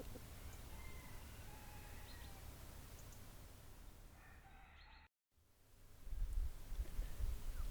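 Hens and roosters in a French garden give faint, scattered clucks and calls against a steady wind rumble, broken by a brief dropout before louder gusts return.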